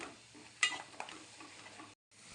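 Spices for pav bhaji sauté in a pan with a soft, low sizzle, punctuated by a couple of clinking spoon scrapes before the sound briefly cuts out.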